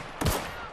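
A single gunshot fired in The Outer Worlds video game, a sharp loud burst with a short decaying tail, standing alone with no talk over it.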